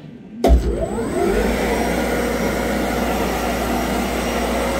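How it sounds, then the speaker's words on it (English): A Townsend 2600 sausage and hot dog peeler starts up with its vacuum pump, a thump followed by a steady loud roaring hum and whir of industrial machinery that holds constant, with no voices. "Starting the machine, we'll get both the vacuum pump and the peeler head running."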